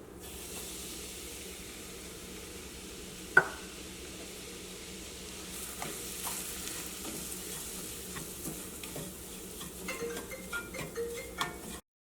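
Semolina roasts in ghee in a pan, a soft steady sizzle that grows busier with scraping stirs and quick clatters toward the end, opened by a single sharp clink, close and moderately loud before cutting off abruptly.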